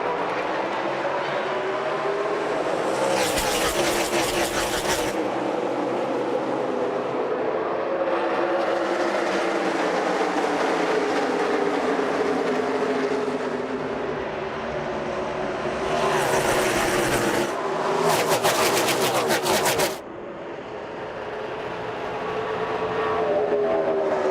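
NASCAR stock cars race in the Southern 500 at Darlington, a loud continuous roar of many engines with several sharp close pass-by surges that swell and fade, under an announcer's commentary.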